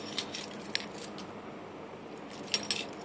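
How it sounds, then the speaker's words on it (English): House keys on a Batman keychain jangle in short metallic bursts, a few clinks near the start and a brighter flurry toward the end, close and fairly quiet with no talking. "I also have some keys. These are my house keys."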